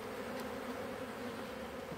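A steady, close buzzing of bees in flight, a low continuous drone with no talking.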